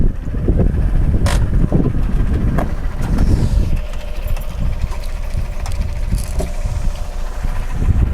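Car driving at about 50 km/h on a dry brake test run, fitted with Semperit all-season tyres, steady loud road and engine roar throughout with a few clunks and a shift in tone partway.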